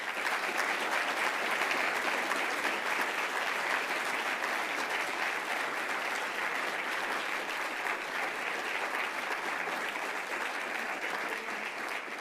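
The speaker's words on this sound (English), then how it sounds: "may I ask we can have another round of applause for all these distinguished award winners" Steady, dense audience applause fills an award ceremony hall, sustained and even for the full length at a consistent moderate level with no talk.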